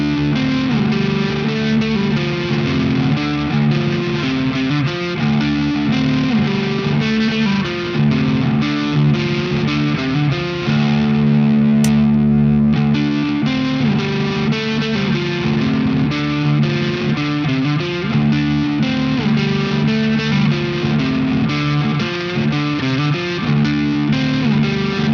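Electric guitar played through a Thorn SteamClip compressor into a Holy Island Audio Tides ambient post-rock pedal, giving a dense, distorted, reverb-washed sustained tone that rings continuously and loudly with swelling chords and no talking.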